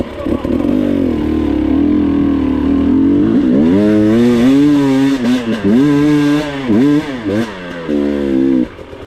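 An enduro motorcycle engine revs hard while climbing over rocks, loud and close, its pitch rising and falling in repeated throttle surges with brief dips between.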